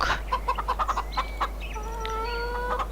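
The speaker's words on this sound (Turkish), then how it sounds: "Şöyle bir 10 20 tane tavuk alalım. Geldiler." Chickens in Farming Simulator 2013 give a string of short, evenly spaced clucks, then a few longer, drawn-out calls over a low steady hum, with no talk.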